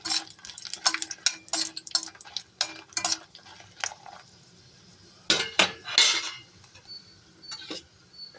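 Dried red chillies frying in hot oil in a pan for beetroot chutney, with a faint sizzle under frequent sharp clinks and scrapes of a spoon against the pan, coming in quick bursts with a short lull midway, no talking.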